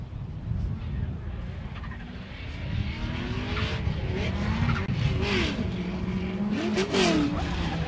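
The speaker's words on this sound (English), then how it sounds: "That car sounds awesome down through the cut through." A professional drift car at Lydden Hill, engine revving and tires skidding through a bend, heard at a distance over steady crowd and track noise, with commentators talking.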